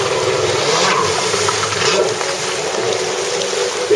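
A jet ski engine roars steadily during a freestyle spin routine at a competition, a loud continuous drone with splashing water, close and unbroken throughout.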